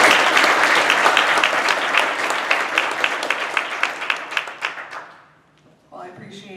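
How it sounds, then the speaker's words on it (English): An audience at a panel discussion on forests and biomass gives a round of applause, loud and dense at first, then thinning into scattered claps and stopping. "a round of applause"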